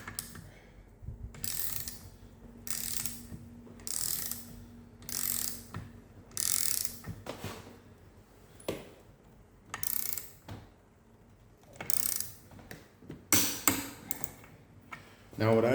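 A wrench ratchets in repeated bursts of clicking as a bolt on a team clutch on an Arctic Cat snowmobile is torqued to 60 pounds, close and fairly loud, with short pauses between strokes.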